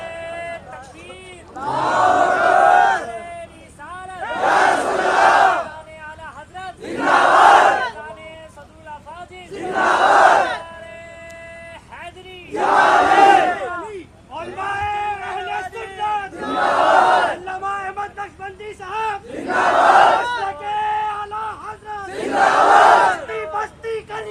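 A large crowd at a religious gathering for the Prophet's birthday chants slogans in call-and-response, with about eight loud, sustained group shouts following one another in a steady rhythm, each separated by brief pauses where a lone leader calls out.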